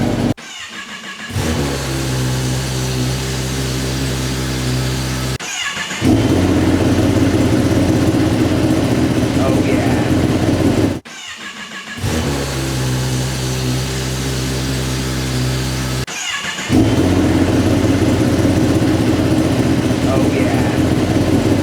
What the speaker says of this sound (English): let's do an idle comparison side by side